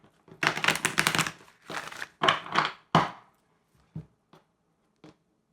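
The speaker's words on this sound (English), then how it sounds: "Let's give it another shuffle." A deck of tarot cards is shuffled in a few short bursts of riffling and crisp card slaps, close and clear, followed by a handful of isolated taps as cards are set down, with no talking.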